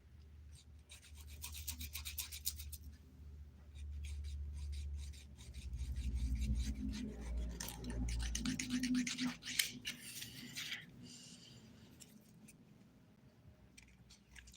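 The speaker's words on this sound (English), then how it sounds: "This is a 100/180 grit file I'm using" A 100/180 grit file rasping across a fingernail near the cuticle, quick close scratchy strokes in rapid runs with brief pauses, fairly quiet and alone.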